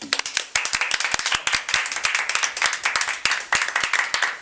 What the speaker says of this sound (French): applaudissements pour tout le monde